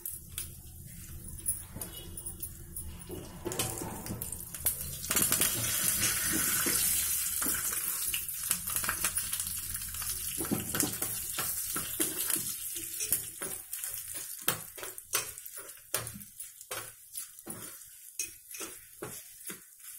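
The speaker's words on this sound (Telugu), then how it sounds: "చూసారా చిట్పట్లు ఆడుతుంది కదా" Tempering spices, with curry leaves and asafoetida, crackle and spit in hot oil for dappalam. Sharp irregular pops and clicks grow denser over a soft background hiss, with occasional utensil clatter.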